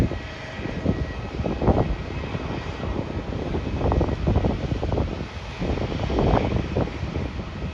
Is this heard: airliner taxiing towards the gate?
yes